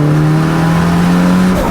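Honda CR-V with a GSR engine swap under hard acceleration, a loud, close, steady engine drone with a rising tone over under two seconds.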